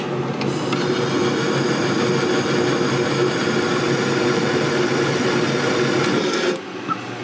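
A Mr Heater compact furnace runs in its normal cycle, giving a steady, fairly loud blower hum and rumble that holds evenly before dropping away abruptly near the end.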